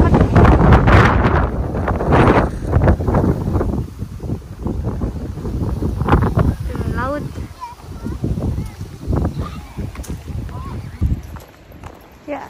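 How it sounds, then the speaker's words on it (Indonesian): Strong gusty wind at a seaside spot near Irako lighthouse, roaring and buffeting the microphone in loud bursts, with a person speaking intermittently over it. "Anginnya gede banget."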